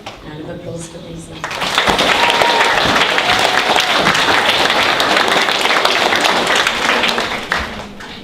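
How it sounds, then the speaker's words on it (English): Applause rises at a school end-of-year assembly, starting with a voice and a few claps, then swelling into sustained, fairly close clapping from many hands that tapers off at the end. "Round of applause for Lisa."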